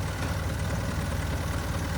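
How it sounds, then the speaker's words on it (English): An antique high wheeler powered by a two-stroke Sears and Roebuck engine idles close by with a steady low chugging drone, and no voices. "So it's a 2-stroke engine made by Sears and Roebuck"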